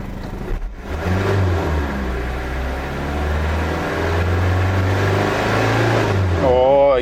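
A repaired Ford Ranger engine revs up close and loud, climbing from a steady idle into a sustained, rising roar that holds before easing, with a brief voice near the start.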